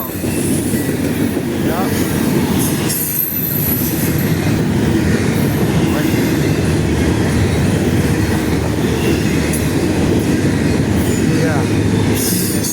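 A fast eastbound Norfolk Southern intermodal freight train passes on the second track in Chesterton, Indiana, with a loud, steady rumble, wheel squeal and rail clatter throughout. Brief casual remarks from a nearby person are heard over it.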